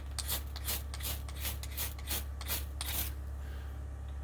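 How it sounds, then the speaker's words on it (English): A large ferrocerium rod scraped to remove oxidation, about a dozen quick rhythmic rasping strokes, close and fairly quiet, then stopping. "It's got some oxidization on there. Let's scrape some of that stuff off."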